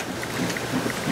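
Steady rain falls outside in a dense, continuous hiss with no voices.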